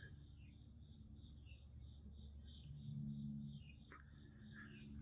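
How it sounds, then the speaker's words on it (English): Crickets chirp in a constant high, steady trill on a quiet night outdoors, with faint occasional bird calls and a low background rumble. "I don't really hear anything besides the birds, and I think those are crickets."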